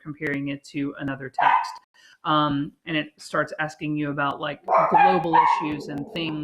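Pet dogs bark a few times in a home while a person keeps talking close to the microphone, so the barks sit partly under the speech.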